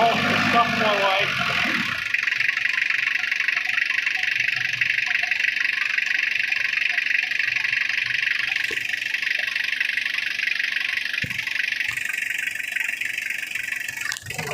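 A Mitsubishi Triton with a 4D56T diesel engine, unused for ten years, runs steadily just after starting, giving a loud, even, continuous rumble that carries on without a break.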